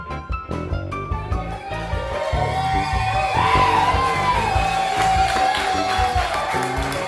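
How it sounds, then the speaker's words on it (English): An audience at a poetry open mic in Asheville whoops, yells and cheers loudly for a performer, a sustained crowd roar with scattered claps and high shouts rising toward the middle. "put your hands together, jump up and down, shout, and scream for Jason Huber"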